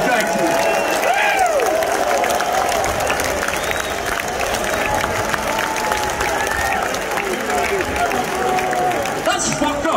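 A big concert audience at Jones Beach Theater, New York, applauds and cheers continuously after a metal show, dense clapping and shouting held at a steady loud level, with voices calling out through the roar.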